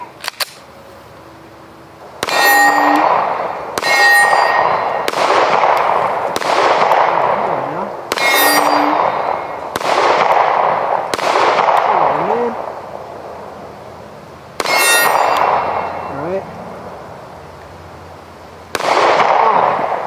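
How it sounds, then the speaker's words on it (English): A PSR35 rifle firing rounds at a target outdoors, about eight loud single sharp cracks spaced a second or two apart, each ringing out with a long echoing decay, with pauses between groups. "See if I can put some rounds on target."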